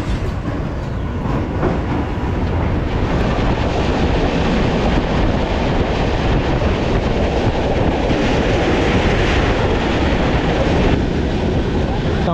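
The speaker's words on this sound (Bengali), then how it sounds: "এই হচ্ছে সন্ধ্যের শিয়ালদা স্টেশন" Evening train station ambience at Sealdah railway station, with trains producing a loud, steady, dense rumble and clatter that continues unbroken for the whole stretch, with no clear voices.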